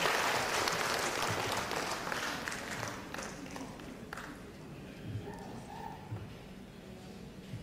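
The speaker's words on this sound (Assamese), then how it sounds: "সকলোৰ পৰা এইবাৰ এইজন ব্যক্তিৰ কাৰণে এটি হাত চাপৰি বিচাৰিছো।" Audience applause at a Nazrul Geeti and Rabindra Sangeet music concert as a guest is invited on stage, a dense, steady clapping that fills the hall and slowly thins toward the end.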